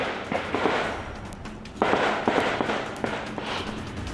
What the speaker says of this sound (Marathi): सुकमामध्ये सुरक्षा दल आणि नक्षलवाद्यांमध्ये झालेल्या गोळीबाराचा व्हिडिओ समोर आला।